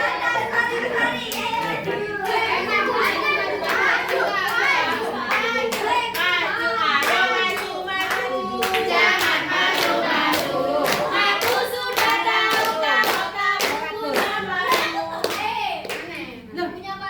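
Children clap their hands in quick rhythmic bursts while chanting an Indonesian counting clap song together in a classroom, the claps sharp and close over their sing-song voices.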